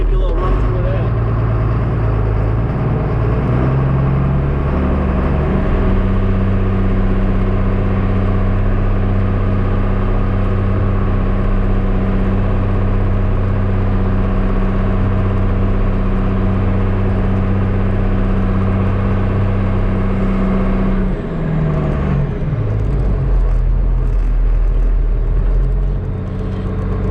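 A tractor engine runs at a steady, loud idle while its hydraulic lift arms raise a hitched plow. The low rumbling drone holds evenly throughout, with a slight dip in tone near the end.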